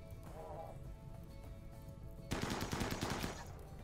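Shotgun buckshot fire in the video game Rimworld, a quick burst of several loud crackling shots in close succession over faint game ambience.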